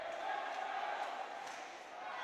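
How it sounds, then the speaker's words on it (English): Ice hockey crowd in a rink at a Deeside Dragons v Coventry Blades relegation play-off game, a steady roar of cheering and shouting that holds at an even, moderate level throughout. "This crowd desperately trying to fire their team on."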